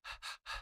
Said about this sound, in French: car en respirant par la bouche comme ça